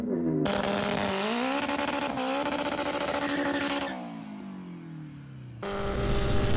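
Car engines rev hard in a race between friends, including a Honda S2000 and a 6.7 common rail Cummins diesel, with rising and falling engine pitch as gears change, loud and close.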